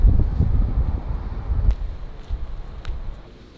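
Gusty wind buffeting an outdoor microphone on a cold, grey day, a steady low rumble with rustling bursts that gradually eases off.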